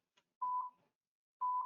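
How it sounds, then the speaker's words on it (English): Pressing the beep button on a Riedel intercom logic setup sets off two clean, identical electronic tones about a second apart, each lasting roughly a third of a second, preceded by a faint click. "So I press the beep Pete."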